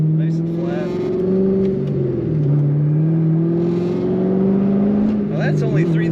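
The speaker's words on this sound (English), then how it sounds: "we're getting really good acceleration and a great exhaust note" A 2009 Chevrolet Corvette convertible pulls hard in second gear at around 3,000 RPM, its loud, steady exhaust note droning and swelling up close throughout.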